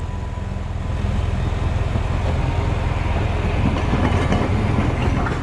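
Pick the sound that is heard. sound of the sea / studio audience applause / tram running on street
tram running on street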